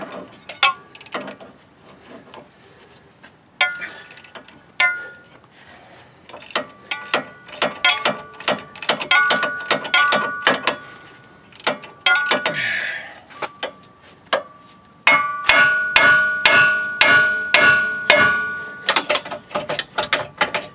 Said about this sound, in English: Let's get the spindle bolt out.